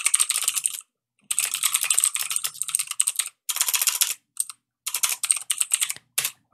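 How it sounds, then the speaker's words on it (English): Fast, crisp keystrokes clatter on a computer keyboard in bursts separated by brief pauses, close and fairly loud, with no voices. "Let's type that again without talking."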